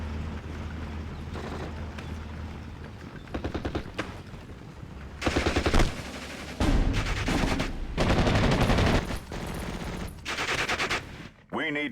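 Machine gun fire in the World War II strategy game Steel Division: Normandy 44, including an airborne M1919, comes as repeated loud bursts of rapid automatic shots separated by short pauses, with quieter battlefield noise between volleys.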